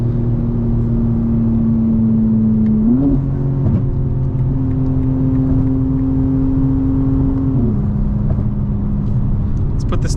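A 2025 BMW M4 Competition drones with a steady engine and exhaust tone from inside the cabin, the pitch stepping up and holding before easing back down, with a voice talking over it.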